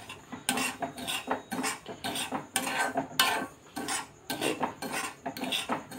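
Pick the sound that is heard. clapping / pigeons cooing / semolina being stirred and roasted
semolina being stirred and roasted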